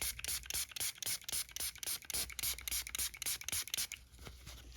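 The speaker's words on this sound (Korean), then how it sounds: "이 발수 스프레이를 사용해서 천이 젖을 만큼 아주 잔뜩 뿌려줍니다" Quick repeated hisses of a water-repellent aerosol spray soaking a piece of cloth, short rhythmic bursts close by, pausing briefly near the end.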